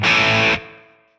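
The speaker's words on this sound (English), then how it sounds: "This is just trying to mimic maybe the effect of hearing what that amp would sound like actually mic'd in a room" Electric guitar played through a Tonex amp model with distortion, a short loud chord that cuts off after about half a second, leaving a subtle room reverb tail that fades away.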